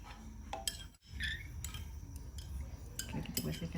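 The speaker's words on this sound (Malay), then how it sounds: "Kita kacaukan pakai sudu." A spoon scrapes and clinks against a metal pot in repeated stirring strokes while dissolving agar-agar, close by, with small taps and knocks throughout.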